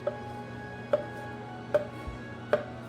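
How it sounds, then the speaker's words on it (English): Four evenly spaced knife chops through cooked broccoli on a cutting board, crisp taps at a slow, steady rhythm over a faint background hum. "And then we're going to chop it up into smaller pieces."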